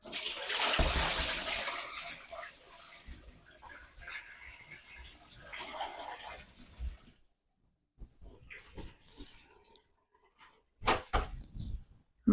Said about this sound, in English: Pour the excess sanitizer away.